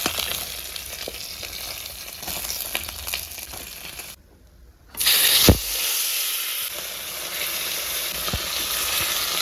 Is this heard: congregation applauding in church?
no